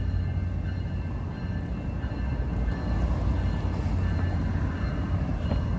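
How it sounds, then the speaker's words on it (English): A train passes near Seattle's Pier 66 cruise terminal with a steady, loud low rumble and rolling rail noise that holds throughout, with no voices. "Not as nice of a train as I got last time, but it's a train."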